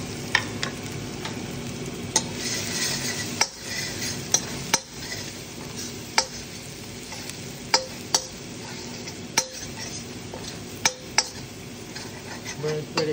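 Garlic, about half a cup, sautéing for Filipino pork adobo while a utensil stirs it in the pan, with a steady sizzle under a run of sharp scraping clicks against the metal.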